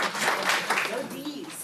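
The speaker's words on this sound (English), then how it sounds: "let's give the D's a round of applause for what they've drawn" An audience applauds together at a leadership workshop, giving a dense, steady wash of clapping that holds for the whole short moment, with a voice faintly rising underneath near the end.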